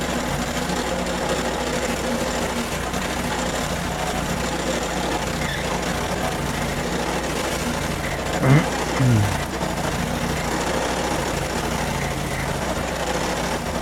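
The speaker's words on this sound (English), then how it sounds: "There we go with the stump grinder now." A small rented stump grinder runs with a steady droning engine while grinding a tree stump, close and continuous, with a couple of brief louder knocks and a pitch swoop partway through.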